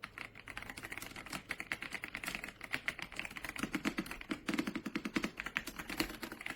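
Continuous typing on an RK Royal Kludge R75 75% mechanical gaming keyboard: dense, rapid, soft thocky keystrokes close up, steady and unbroken, with no voices.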